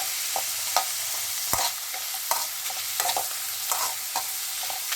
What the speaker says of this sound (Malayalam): ചൂടായി വരുമ്പോൾ ഉള്ളി ചെറുതായി നുറുക്കി ഉള്ളി അതിലേക്ക് ഇട്ട് നന്നായി ഒന്ന് വഴറ്റി കൊടുക്കാം